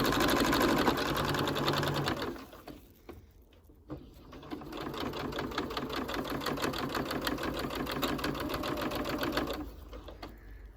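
A domestic sewing machine stitches quilt binding with a steady rapid mechanical whir, loud and close, pausing briefly before running again in a long continuous stretch.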